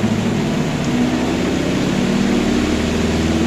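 A Kuppet portable washing machine whirs through its spin cycle, a steady, loud droning hum with a rising airplane-like whine, continuous and close with no pauses.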